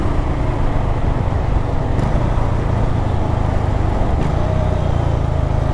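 A Honda H'ness CB350 motorcycle eases off from fifth gear while slowing for a red traffic signal, its engine producing a steady, close, low thumping rumble with road noise and no speech.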